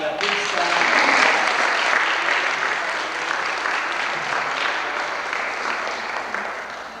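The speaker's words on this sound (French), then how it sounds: "On l'accueille fort aussi en l'applaudissant." A crowd applauds to welcome Bruce and Louise at a 1994 homecoming gathering, sustained loud clapping that fills the room and fades slightly over several seconds.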